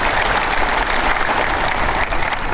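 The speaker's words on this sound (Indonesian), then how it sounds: "Aplaus untuk Anda semua." A crowd of newly appointed civil servants applauding at an outdoor appointment ceremony, with steady, dense clapping that holds at full loudness throughout.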